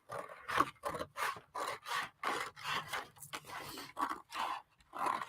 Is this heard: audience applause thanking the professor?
no